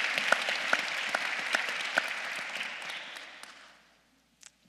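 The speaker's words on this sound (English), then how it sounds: "we can clap that out" Conference keynote audience applauding, a dense wash of many hands clapping with a few sharp individual claps standing out, fairly loud at first then fading away to near silence after about four seconds.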